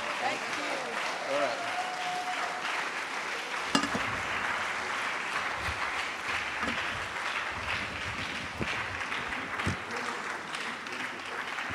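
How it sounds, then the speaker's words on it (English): Sustained applause from a gathered audience at a Christian hangout event fills the room with steady clapping, a few sharper claps standing out, while people keep talking over it. "Let the applause continue till they sit down."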